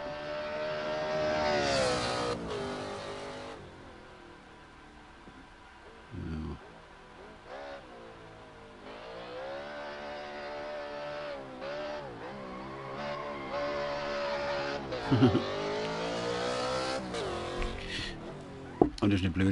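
A race car drifts in Assetto Corsa on PS4, with a steady, droning engine that rises and falls in pitch and brief tyre squeals, while someone speaks German over it.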